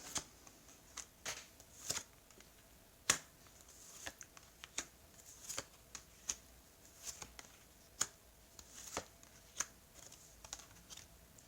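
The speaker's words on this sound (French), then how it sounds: "Alors, on va étaler les cartes." Tarot cards are spread across a table in a series of soft, irregular flicks and slaps, some sharper than others, close and quiet with no talking.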